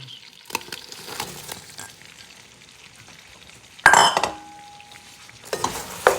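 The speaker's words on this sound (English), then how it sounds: "I'll just stir this until it's melted and become one with the mixture." Spoon stirring white marshmallows melting in a pot, soft scraping and gentle sizzle with a louder clatter of stirring partway through and a brief clink near the end, no talking.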